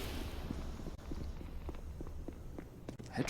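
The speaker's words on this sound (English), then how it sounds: "I don't think those footsteps will have been heard" Quick, steady footsteps pad along in a Counter-Strike match at IEM Katowice 2023, a regular running rhythm set close against a low ambient hum.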